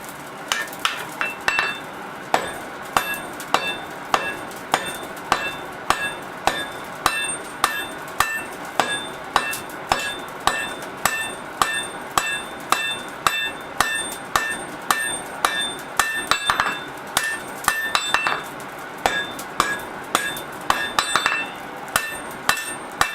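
A hammer forges hot stainless steel into a dagger blade, striking in a steady, rapid rhythm of loud, ringing metallic blows close by, with brief pauses between runs of strikes and no talking.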